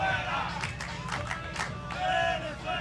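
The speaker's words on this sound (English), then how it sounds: "The Venezuelans are waking up back there in the crowd." Venezuelan fans in the crowd at a beach tennis final in Palm Beach cheer and call out, a steady crowd roar with bursts of voices throughout.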